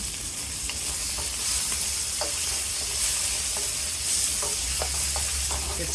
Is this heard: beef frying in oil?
yes